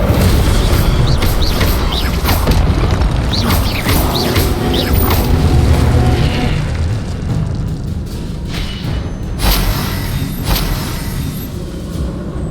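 An Incendio fire spell cast in Hogwarts Legacy, bursting out as loud booming blasts with crackling impacts and rumbling debris, several hits in quick succession under a continuous game soundscape.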